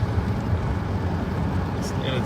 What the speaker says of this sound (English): when I stop the car, the motor keeps making that noise